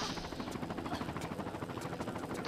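Helicopter in the Tomb Raider video game, a steady rhythmic rotor thumping with a low engine drone, moderately loud and continuous with no voices.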